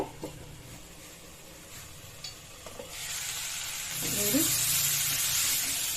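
Avarekai (flat bean) palya frying in a pan on a home stove, a steady sizzle with occasional stirring clinks that grows louder and brighter toward the end, with faint voices in the background.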